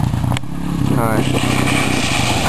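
Truck engine revving hard in fourth gear while speed mudding, a loud continuous roar that rises as it winds out, with a brief clattering burst near the start and people talking over it.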